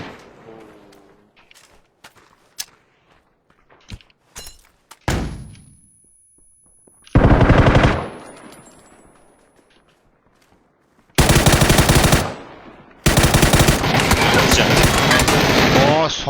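Gunfire in the battle game PUBG, heard as scattered single shots followed by three long, loud bursts of rapid automatic fire with short pauses between them.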